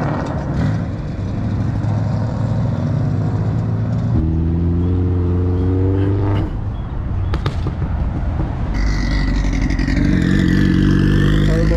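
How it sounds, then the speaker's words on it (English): A Honda NSX drives past at a Cars & Coffee meet in West Palm Beach, its engine loud and close, with harmonic revving that climbs and then fades over steady crowd and traffic noise. "there goes your NSX right there"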